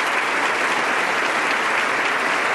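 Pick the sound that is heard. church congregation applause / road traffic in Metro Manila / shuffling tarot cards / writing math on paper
church congregation applause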